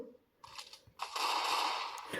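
Rapid Counter-Strike gunfire bursts out, a short burst, a pause, then a sustained loud volley of automatic shots.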